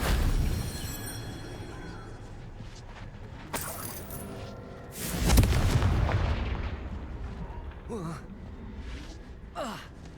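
A Confringo fire spell in Hogwarts Legacy bursts with a sudden booming explosion partway through. A voice sits faintly beneath, and softer whooshing spell effects follow.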